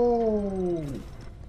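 A cat in the video game Poppy Playtime gives a single long, falling meow, loud and close, fading into quiet game ambience.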